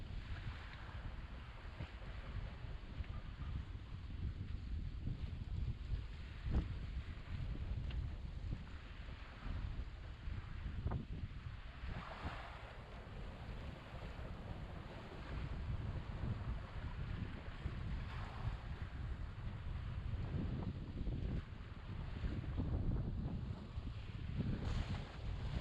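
Sailboat Windsong running north with the wind astern, a steady broadband rush of wind and water against the hull with low rumbling buffeting on the microphone, continuous throughout and no talk.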